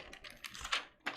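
A pile of mechanical keyboard switches and keycaps is sorted by hand during a custom keyboard build, with light plastic clicks and clatters at close range, quiet and irregular, with no voices.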